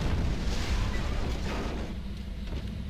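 A tank cannon firing in the video game Ground Forces, a loud, heavy boom that opens the moment and rolls into a dense rumbling decay, with no talking over it.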